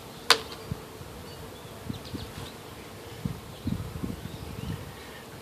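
Honeybees buzz steadily in an open hive, a dense close drone with individual bees zipping past near the microphone and a single sharp click early on.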